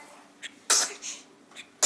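Two sharp sneezes burst out close by, with softer breathy sounds in between.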